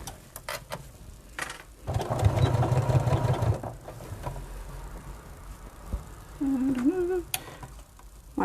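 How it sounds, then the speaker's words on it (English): A sewing machine runs in a loud whirring burst as it stitches along a bag's long side and across its cork bottom at standard stitch length, surrounded by quieter handling clicks and a brief mechanical whine near the end. "I'm going to sew down this one long side, across the outer bottom where the cork is, and then back up the other side."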